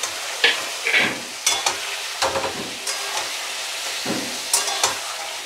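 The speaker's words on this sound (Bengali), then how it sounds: "এটা ভাজা ভাজা হয়ে গেছে, তেল ছাড়ছে। এবার এর মধ্যে আমি পটলগুলো দিয়ে দিলাম।" Pointed gourd cooks in oil with poppy seed paste, sizzling loudly and close. Sharp bursts of stirring and scraping come every half second or so over the crackle. No one speaks.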